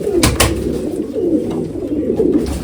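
A golden pigeon coos close by in a loft, several soft throaty coos in a steady rolling rhythm, alone and clear.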